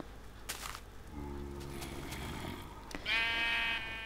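Minecraft sheep give a short bleat, then a longer, higher quavering bleat near the end, with faint game sounds and no speech.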